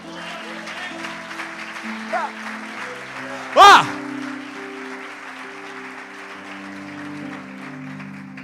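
Applause from a church congregation at a celebration service, a sustained, moderate clapping spread through the room, with a sharp loud burst partway through and voices and music around it.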